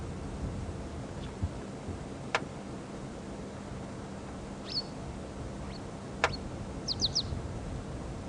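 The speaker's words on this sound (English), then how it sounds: "I'm scanning around hoping to find this bird that we can hear calling" Short, sharp calls from an unidentified bird in African bush, scattered and faint over a quiet background with occasional clicks and rustles.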